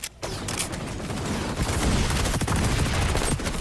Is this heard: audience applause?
no